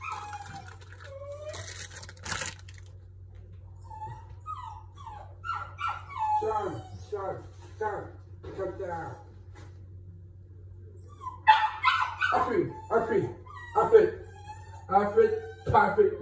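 A dog whimpers, yips and howls indoors in a series of high whining cries, growing into louder bursts of yelping and barking near the end, over a low steady hum.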